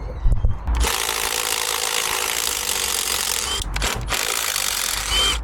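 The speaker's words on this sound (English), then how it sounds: "We've just got these 2 bolts in here now to undo," Ratchet clicking steadily while undoing two bolts on a DAF truck engine during repair work, a continuous close metallic ratcheting with a brief pause near the end, no talking.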